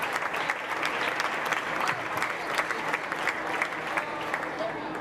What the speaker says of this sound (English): let's give a big round of applause to this dairy portion